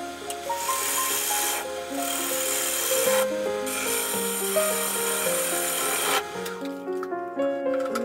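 A wood lathe turns a winged sycamore bowl, giving a continuous rubbing, rasping cut of the tool against spinning wood with shifting tones, steady and close, ending in a quieter whirr as the cut eases off.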